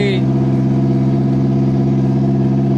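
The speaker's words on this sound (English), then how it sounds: "that is the worst sounding exhaust in the history of exhausts" A Sol car engine with a rough, bad-sounding exhaust runs at a steady idle, a continuous low droning rumble heard close up throughout.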